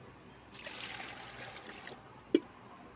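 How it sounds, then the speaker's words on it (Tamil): Water trickles quietly into an idli steamer pot on a stove for a couple of seconds, with a faint splash near the end and no talk. "ஃபஸ்ட்டு இட்லி பாத்திரத்தில் தண்ணி விட்டுக்கலாம்"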